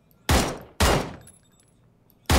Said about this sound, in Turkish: arkamızdan silah sesleri geliyordu